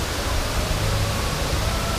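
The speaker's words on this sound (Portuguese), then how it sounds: "Aqui tem uma banheira de hidromassagem, tem uma jacuzzi, né" Jacuzzi hot tub water bubbles and churns in a steady, dense hiss of aerated water, loud and unbroken throughout with no pauses.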